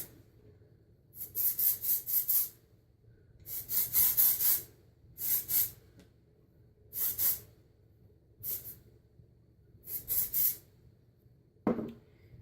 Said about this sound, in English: So I just take this and I just spray it lightly on the sides of my hair.